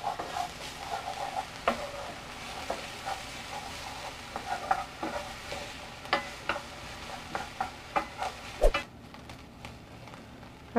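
Chopped onion frying in a pan, with soft steady sizzle broken by repeated short scraping and stirring knocks from a utensil, close up and moderately quiet, no talking.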